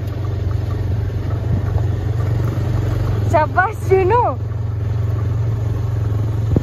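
A motorcycle carrying a rider and passengers on the way home hums with a steady low engine note throughout, and a voice speaks briefly over it midway.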